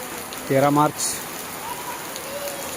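Steady early-May rain in Konkan patters down in a soft hiss, with a brief tonal voice-like sound rising over it near the start.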